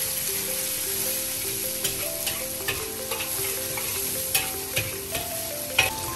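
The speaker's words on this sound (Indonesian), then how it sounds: "bawang putih kita masukkan dan juga teruskan kita tumis dia sampai dia" Garlic stir-fries in a pan for Chinese-style fried rice, with a steady close sizzle and scattered taps of a spatula stirring, all under background music.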